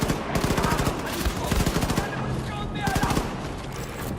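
Rapid automatic gunfire rattles in the video game Wolfenstein 2: The New Colossus, loud bursts of repeated shots with brief pauses between them, under a voice speaking at times.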